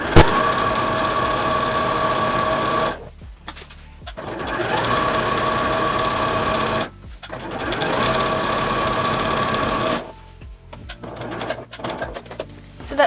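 A sewing machine stitches quilting lines into a cushion cover in three long, steady runs of rapid whirring and needle clatter, each stopping abruptly, with brief quiet gaps and some handling noise between.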